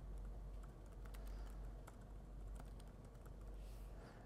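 Quick, uneven clatter of keys on a computer keyboard as someone types, faint and close, with a low steady hum underneath and no talking.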